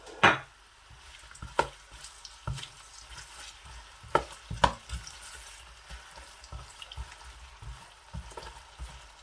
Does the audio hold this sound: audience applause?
no